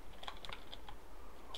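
Light, quick typing on a computer keyboard, a short run of crisp irregular key clicks, close and alone.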